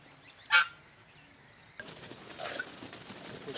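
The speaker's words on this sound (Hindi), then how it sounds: "बत्तख हमें देखते ही इन्होंने आवाज़ निकालना शुरू कर दी" Farm ducks give one short, loud call close by, followed by quieter rustling and distant outdoor ambience on a countryside farm near Karachi.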